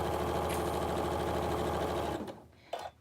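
A sewing machine with a piecing foot stitches quilt pieces in a loud, steady, rapid whir up close. The motor then winds down into quiet, followed by a brief clunk near the end.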